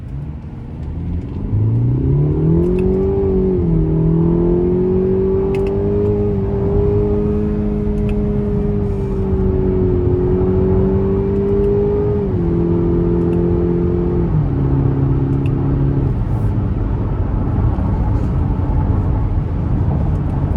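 A 2025 Cadillac XT5 2.0T turbo SUV accelerating from inside the cabin, engine note rising through gears with shift steps, loud and steady rumble, no talk.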